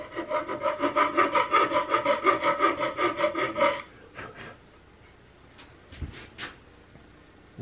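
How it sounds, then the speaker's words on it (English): A rasp files wood while the nose of a Gemmer Hawken muzzleloader kit stock is shaped: a rapid, rhythmic run of close, loud rasping strokes for about four seconds, then quiet with a few faint knocks. "Now with my rasp, I'm staying clear of that plate."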